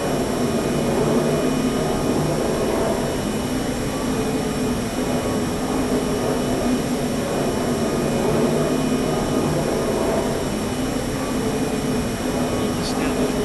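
Boeing 747 jet engines roar steadily during takeoff in a flight simulator game, a broad continuous whine and rush that holds for the whole stretch, with faint tonal hums and occasional background radio chatter.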